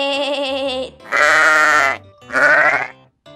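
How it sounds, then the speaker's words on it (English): A sheep bleating three times, close and loud, each call a wavering nasal cry of about a second separated by short pauses. "Here we have a sheep making the sound ba"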